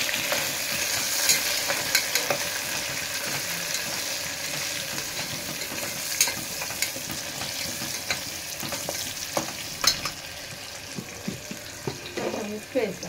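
Green chillies and curry leaves fry in oil in a pan for a dal tadka, with a continuous sizzle and the scrape of stirring, plus sharper clinks and pops near the end.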